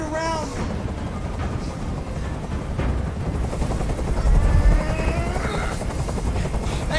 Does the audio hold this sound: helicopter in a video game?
yes